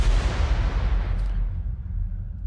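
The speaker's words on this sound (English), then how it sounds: "This here, some gunfire, I believe, into some stuttering effects." Gunfire sound effect for modern metal production: a dense, booming wash of blasts that fills the low end and slowly fades and thins out over a couple of seconds, with no voices.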